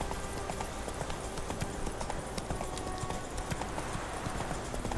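Horse hooves clip-clopping in The Witcher 3, a steady rhythmic trot of a single horse, fairly close, continuing without pause and no voices.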